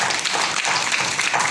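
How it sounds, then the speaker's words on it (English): Applause from an audience for a team from Miami, a steady wash of many hands clapping at moderate volume for the whole stretch, with no voices over it. "give them a big hand of applause"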